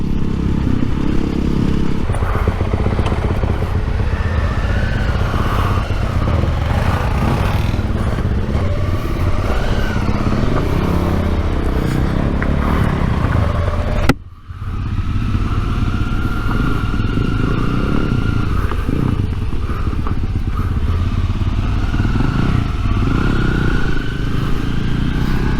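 Suzuki V-Strom 650 ridden on an adventure ride, a close, continuous engine drone mixed with wind roar and clattering, cut by a sharp momentary drop about halfway before the riding noise resumes.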